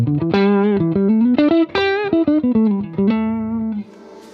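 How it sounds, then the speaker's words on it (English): A Vox AC15 C1 guitar amp plays a sequence of sustained, harmonically rich electric guitar notes and chords with its reverb lightly opened, each note ringing into a short tail, loud and close with no talking. "Let's see what the reverb does."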